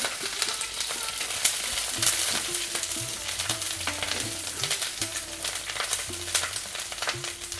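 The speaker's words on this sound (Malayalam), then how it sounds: "നമ്മൾ ഈ ചൂടായ എണ്ണയിലോട്ട് ഒരു 5 പച്ചമുളക് ഇട്ട്" Six green chillies fry in hot oil for an egg curry, giving a continuous bright crackling sizzle with a soft low hum underneath, close and steady throughout with no voices.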